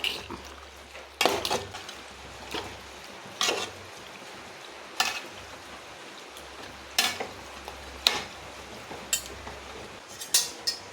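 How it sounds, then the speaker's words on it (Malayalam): Chicken and jackfruit being stirred in a pot with added water, a spoon scraping and clanking against the metal at irregular intervals over a low simmering sizzle, close and fairly loud with no talk. "നന്നായി ഇളക്കിയെടുക്കാം"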